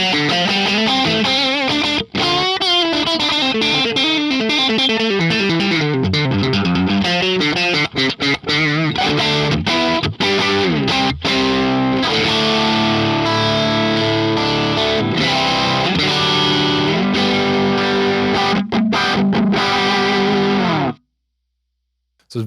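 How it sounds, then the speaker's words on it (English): Distorted electric guitar with a Bare Knuckle Brute Force humbucker split to its inner coil plays chords and riffs with a slightly thin, bright tone, loud and continuous, ending abruptly in silence. "And then a split inner coil sound."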